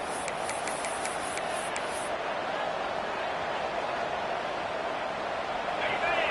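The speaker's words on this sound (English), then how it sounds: "listen to this crowd noise. This stadium is vibrating." A constant roar of a large stadium crowd in a football video game, dense and unbroken at moderate volume, with a few brief high chirps early on.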